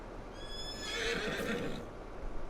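A single horse whinny in Farming Simulator 22 rings out, bright and drawn out with a shaky pitch, over a low steady background hum.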